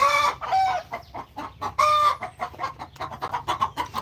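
Several chickens cluck loudly and close by, with overlapping squawks and calls in a busy, irregular burst of noise.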